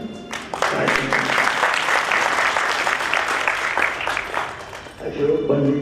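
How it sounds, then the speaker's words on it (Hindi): A seated audience at a spiritual discourse breaks into sustained, dense clapping that swells and holds for several seconds before tapering, with a voice speaking over it near the end. "हाँ, लगाओ ताली।"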